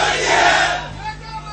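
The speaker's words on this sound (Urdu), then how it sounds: "پہلے نعرے سنوائیں ذرا" A large crowd roars and chants slogans at a political rally, heard as a played recording with a dense, loud wash of voices that swells and then thins out.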